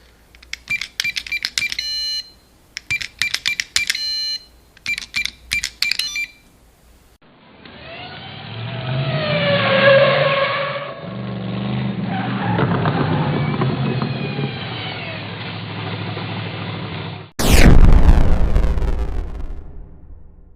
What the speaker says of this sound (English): That is the sound of the Ford Transit van